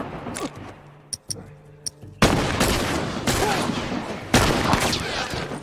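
Enemy sniper fire in The Last of Us game, a few sharp single cracks and then heavier repeated shots with loud booming impacts, close and under some faint talk.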